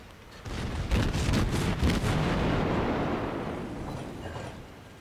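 Heavy naval guns of a Tier 6 Kriegsmarine cruiser, the Nurnberg, fire in World of Warships, rolling booms of repeated salvos that swell quickly and fade into a long rumbling tail.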